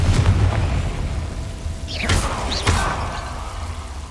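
Confringo fire spells cast in Hogwarts Legacy, sounding as two sharp booming blasts with a crackling, swooping sizzle, a little under a second apart, over a low ambient rumble.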